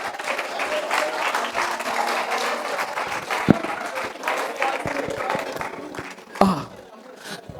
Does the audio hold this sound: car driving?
no